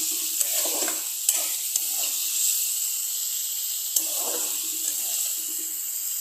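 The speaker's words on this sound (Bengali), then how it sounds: "2 মিনিট আমি এটাকে কষিয়ে নেব।" Potatoes stir-fried with spices in an uncovered pan, a steady high sizzle broken by a few sharp spatula taps and scraping stirs.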